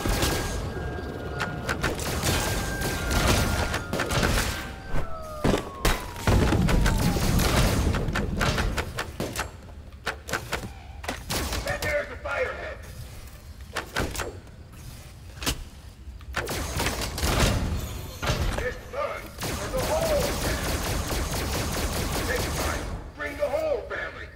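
Gunfire rings out in Five Nights at Freddy's: Help Wanted 2 as bursts of sharp shots and heavy thuds. The shots are loud and irregular, cluster in the first half, then thin into scattered hits with quieter game noise between them.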